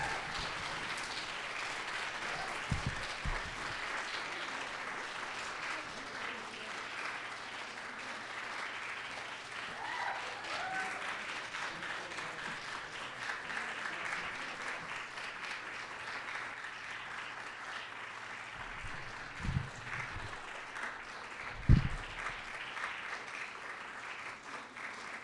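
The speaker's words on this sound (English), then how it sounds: "give a big round of applause" An audience at the on-stage award of the 2026 Blue Metropolis Violet Literary Prize to Shani Mootoo applauds warmly for a long stretch, a steady, somewhat distant wash of clapping with a few low thumps.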